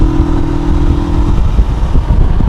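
A Rieju 500 Aventura motorcycle engine pulls out of a corner on a mountain road, a close, steady rising drone with gusty wind noise over it.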